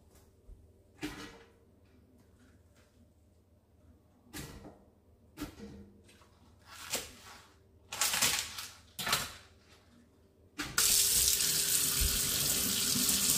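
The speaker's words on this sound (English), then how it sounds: "I'm going to fill the water only just above the vegetables." After a run of scattered clunks and knocks in a kitchen, a tap opens and water gushes steadily into a pot of harvested vegetables for homemade stock, loud and close.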